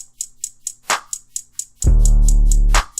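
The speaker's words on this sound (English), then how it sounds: "Distort your 808s" A distorted 808 bass note in a type beat booms loud for about a second after a run of crisp hi-hat ticks and a snare hit.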